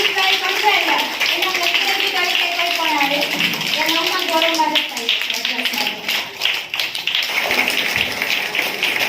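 Applause at a village primary school admission ceremony as students placed first to third in their class are welcomed with books: steady, dense clapping from a crowd throughout, with children's voices mixed in.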